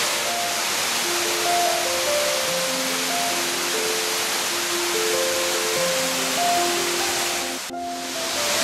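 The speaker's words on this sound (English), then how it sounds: "Look at Brandywine Falls." Brandywine Falls in Ohio pours in a constant broad rushing roar, even and unbroken, with a soft melodic tune drifting over the water noise.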